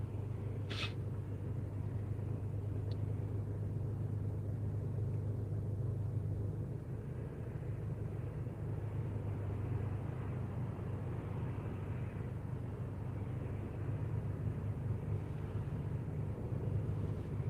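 A car on the road during a DoorDash delivery run gives a steady low engine and road rumble from inside the cabin, continuous and unbroken with a brief faint click early on.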